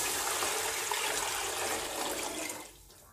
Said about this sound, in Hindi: अभी जो मैंने यखनी तैयार की है वो इसमें शामिल कर दूँगी हस्बे ज़रूरत।